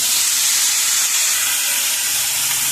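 Bottle gourd dropped into hot mustard-oil left from frying fish, with bay leaf and panch phoron, hissing in a loud, steady sizzle with no pause.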